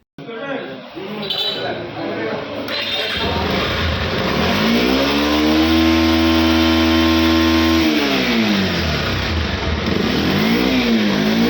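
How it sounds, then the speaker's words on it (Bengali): A motorcycle fitted with a gas conversion kit and suffering weak pickup cranks to life and then revs loudly up and down at close range, its engine note rising, holding and falling. "আমরা এখন স্টার্ট দিয়ে আপনাদেরকে দেখিয়ে দেবো দেখেন"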